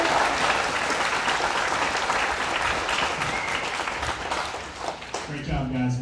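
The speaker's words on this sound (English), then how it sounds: "Can we clap that one more time?" Audience applause at a high school band concert fills the space, a dense, steady clapping from a sizable crowd that tapers off as a voice begins speaking at the end.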